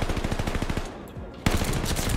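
Rapid automatic machine gun fire from a DP27 in Call of Duty Vanguard rattles in dense bursts, loud and close, with a brief lull before another burst.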